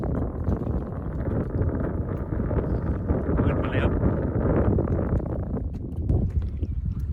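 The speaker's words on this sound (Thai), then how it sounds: "ลมมาแล้ว เมฆฝนมาเต็มๆ" Strong wind ahead of rain clouds buffets the microphone with a constant low roar on a reservoir with rising waves, while a voice talks intermittently over it.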